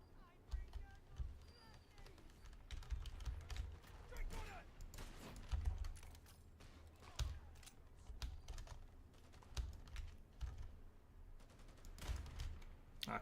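Gunfire in a first-person shooter game crackles in short bursts and single shots amid constant keyboard typing and clicking, with a player talking now and then over the busy mix.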